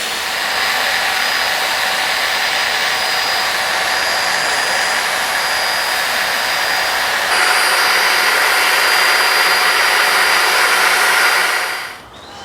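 Ground screws being driven into garden soil for the base of a large garden studio. A loud, continuous motor whine holds steady for about twelve seconds, then winds down and stops at the end.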